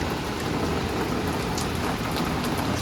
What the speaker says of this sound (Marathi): कसला पाऊस पडतोय बघा.